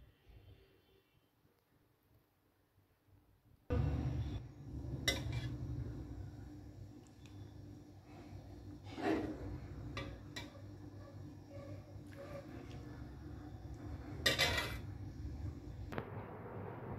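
Cooked spicy chicken being dished out onto a plate: after a quiet start, a spoon clanks and scrapes against a pan in a run of irregular metallic knocks, close and fairly loud.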